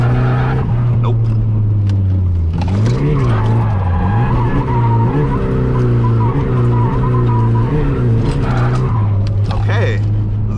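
A Nissan S14's engine revs and drones loudly while tires squeal in long screeching stretches as the car drifts, close and continuous.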